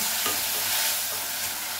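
Chopped onion and tomato sauté in a pan for Tamil-style potato poriyal, a steady close sizzle with soft scraping stirs throughout, no talking.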